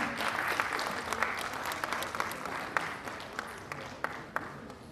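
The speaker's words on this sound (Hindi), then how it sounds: "एक बार जोरदार तालियां।" An audience at a stage performance event claps vigorously, sustained applause with individual sharp claps standing out, heard somewhat distant and at a modest level.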